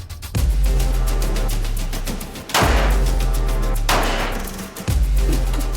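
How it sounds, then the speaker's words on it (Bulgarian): Gunshots fired at a shooting target during a survival training course: a rapid string of sharp, loud reports spaced in bursts, with several heavier blasts and ringing decay between them, no voices. "стреляме в гърдите на мишената"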